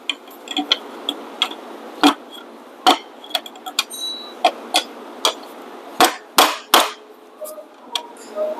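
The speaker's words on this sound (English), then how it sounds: "Gotta hit it with a hammer now?" Hammer striking a chisel while removing the starter from a Honda Accord, about a dozen sharp metallic blows at irregular intervals, some louder and doubled, ringing over a quiet background.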